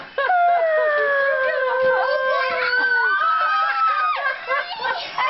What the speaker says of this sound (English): It's my puppy.